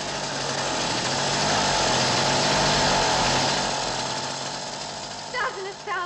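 An old motorbike engine runs steadily and loud, a continuous rough buzzing drone that swells slightly in the middle and eases toward the end, with a brief voice near the close.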